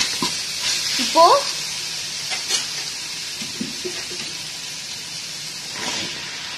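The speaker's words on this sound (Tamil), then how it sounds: "இப்போ வெங்காயம் தக்காளி எல்லாமே சூப்பரா வதங்கியாச்சு" Onions and tomatoes sautéing in a pan for vegetable kuruma give off a steady sizzle and hiss, with a few utensil stirs and scrapes, while a voice speaks briefly near the start.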